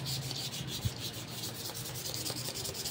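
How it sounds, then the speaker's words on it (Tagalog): Steady rhythmic rubbing of coarse sandpaper against a stand fan's metal shaft, a close, gritty scraping repeated in short strokes. "lilihaan na natin mga ka-viewers"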